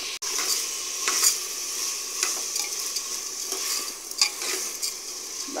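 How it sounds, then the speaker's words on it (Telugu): Lentils and garlic fry steadily in a pan, a continuous close hiss with occasional scraping stirs and light clinks of a spoon against the metal, and no voices. "కాసేపు వేగాక ఇప్పుడు పప్పు వేసుకున్నామండి. వేసి వేయించుకుందాం."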